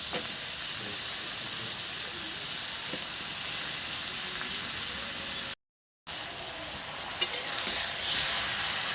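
Fish and ridge gourd with green chili sizzle and fry steadily in a pan, a continuous bright crackle with a brief silent break midway before the frying resumes.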